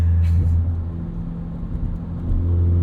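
Straight-piped 2017 Ford Fiesta ST accelerating hard in sport mode with wheel spin, a loud, steady low engine drone and rumble heard from inside the cabin, with a brief higher burst near the start.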